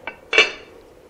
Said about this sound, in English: what I'm going to do is turn it down and put the top on